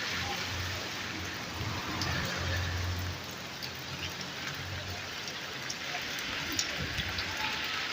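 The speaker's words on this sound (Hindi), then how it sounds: "सुबह से बारिश हो रही है।" Steady rain pattering on surfaces in Bahrain, Swat Valley, a constant hiss of drops with faint voices and low rumbling underneath.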